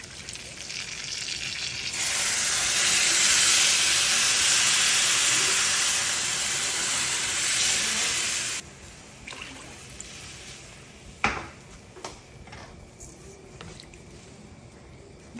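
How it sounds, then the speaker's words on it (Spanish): Water poured into a pot of rice being cooked for arroz blanco, a loud bright sizzling rush for several seconds that drops off abruptly, followed by quieter stirring and scraping sounds. "Y ahora le vamos a agregar el agua"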